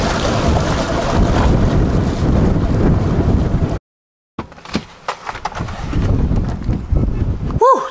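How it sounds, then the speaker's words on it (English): Strong wind of about 35 miles an hour buffets the microphone during bass fishing, a loud roaring rush that cuts out briefly midway, then returns in gustier bursts with faint sounds that may be voices. "It's like a 35-mile-an-hour straight wind today."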